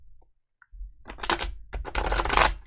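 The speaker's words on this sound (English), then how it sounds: "One more shuffle." Tarot cards are shuffled close up, with a soft tap followed by two dense bursts of riffling and slapping card noise over about a second and a half, with no talking.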